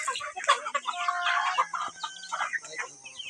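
Chickens cluck and a rooster calls in a busy farmyard, with dense overlapping bird calls throughout and a few faint voices in the background.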